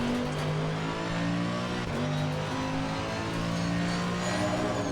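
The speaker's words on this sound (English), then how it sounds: "It's doing about 156 to 157 miles an hour down the straightaway until I hit the brakes." A Mercedes-AMG GT3 Evo race car engine in Assetto Corsa Competizione at Zandvoort, a loud steady high-revving drone at top speed down the straight, with a brief gear-change blip near two seconds.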